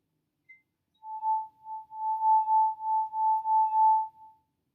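An empty drinking glass struck repeatedly and left ringing, producing a clear, pure high tone that pulses steadily for several seconds in a quiet room.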